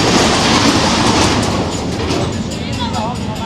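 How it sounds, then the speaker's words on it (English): A loud, steady rumble of a fairground ride train running test laps on its track at Hull Fair at night, with rattling and faint clacks throughout, a few brief squeals near the end. "Testing the trains."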